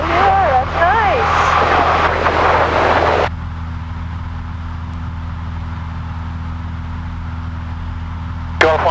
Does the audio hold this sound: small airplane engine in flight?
yes